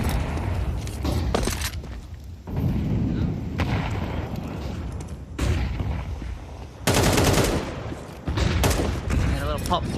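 Rifle fire and bursts of gunshots ring out in a Counter-Strike LAN finals match between 9INE and Gentle Mates. Loud volleys repeat in clusters, and commentators talk over the shooting.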